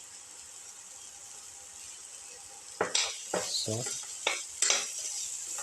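Onions and shallots sauté in a pan with salt added. A soft hiss gives way to several close, rhythmic stirring scrapes over a sizzle, with a short spoken word in between.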